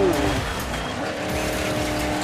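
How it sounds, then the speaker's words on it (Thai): A Ford Raptor speeds through mud in the Dirt 5 racing game, its engine roaring steadily with tire squeal and skidding for a couple of seconds. "ฟอร์ดแรปเตอร์นี่ยคันหน้ามันขับเร็วจัง"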